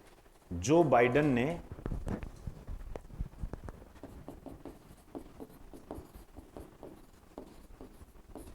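Pen scratching on paper while a note is written, a steady run of soft strokes close by, following a short burst of speech at the start.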